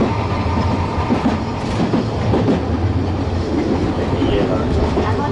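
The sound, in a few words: old tram running in Nagasaki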